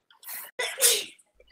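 A single person sneezes, a quick sharp intake of breath followed by an explosive burst and then silence, close and loud.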